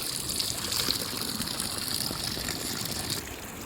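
Clean, cold spring water trickles steadily out from under dry ground in a Hunza Nagar village in Gilgit Baltistan, a close, continuous watery rush with no voices.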